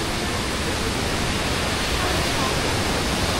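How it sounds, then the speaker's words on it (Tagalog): A waterfall on Taiwan's north coast roars in a dense, unbroken wash of rushing water that stays loud and even throughout. "Ayun yung waterfalls mo!"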